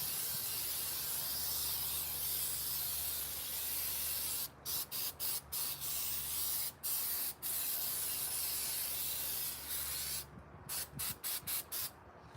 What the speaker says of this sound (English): so I sprayed a little bit of that stuff on